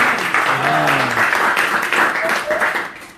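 Applause breaks out from an audience at a Sunday spiritual talk, a dense, steady patter of many hands held at an even level for about three seconds, with voices calling out over it.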